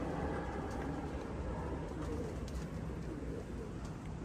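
Steady outdoor ambience at a pigeon loft with soft pigeon cooing mixed into a low, constant rumble; the coos are faint and blend into the background.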